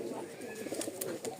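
A pair of Giribaj pigeons from Rajshahi coo softly, low, gentle, rolling calls that sound close but quiet.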